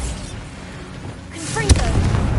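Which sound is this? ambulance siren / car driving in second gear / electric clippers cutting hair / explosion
explosion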